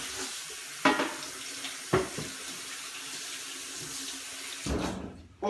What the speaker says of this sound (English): You can hear the water running in the background,